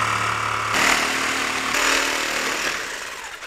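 A power saw cuts into a wooden corbel in two or three loud bursts of buzzing, close up, the cut tapering off at the end.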